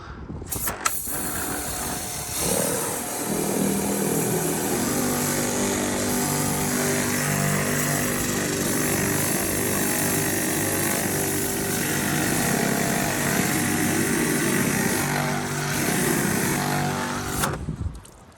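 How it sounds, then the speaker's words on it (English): A patio cleaner running steadily while scrubbing lichen off rooftop solar panels, a loud continuous motorized whir with a low droning hum that holds for most of the stretch before cutting off near the end. "this patio cleaner gets it off pretty well"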